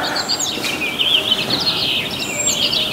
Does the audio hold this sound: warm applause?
no